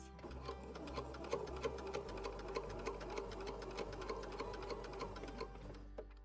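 A sewing machine stitches a cotton romper in a rapid, steady mechanical whir of needle clicks, briefly pausing as it back stitches and then runs forward again, close and clear with no talk.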